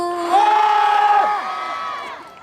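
A crowd cheers and screams loudly at an outdoor K-pop concert in cold weather, in a sustained, high-pitched roar that swells, holds for about two seconds, then tapers off.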